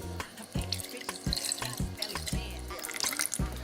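Courvoisier cognac is splashed generously into a warm pot while making Hennessy and honey gummies, giving an irregular series of close liquid glugs and splashes.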